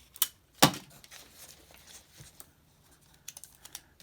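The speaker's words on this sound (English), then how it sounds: "And we tape it down." Tape pulled and pressed down onto a homemade cardboard marble maze, heard as a few sharp crinkly rips and pats, the loudest near the start, then scattered lighter taps and rustles close by.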